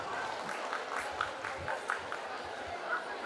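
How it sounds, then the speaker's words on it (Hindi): Audience applause at a Hindi literary festival, a moderate wash of clapping mixed with crowd murmur and background voices, held at a fairly even level throughout. "एक बार जोरदार तालियां होनी चाहिए"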